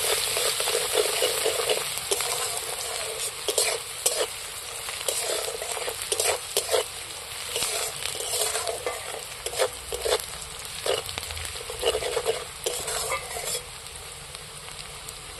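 Onions fried in oil on a wood-fired stove, stirred with repeated scraping strokes over a loud, constant sizzle, close and with no talking.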